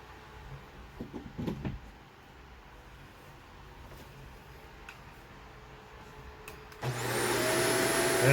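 A Shark Apex Zero-M AZ1002 upright vacuum cleaner switches on after a few knocks and clicks of handling, then runs with a steady whirring motor drone and a rising whine to the end.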